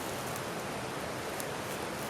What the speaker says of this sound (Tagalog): Ilog yan mga kaibigan.